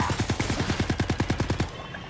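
Rapid automatic gunfire from the video game Marvel Rivals, a steady burst of about sixteen evenly spaced punchy shots that cuts off abruptly, leaving a faint tail.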